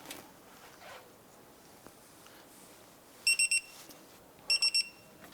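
A torque wrench tightens a caliper bracket bolt on a 2005-2009 Subaru Outback during a front brake job, giving two bursts of three quick, high electronic beeps over a quiet workshop background.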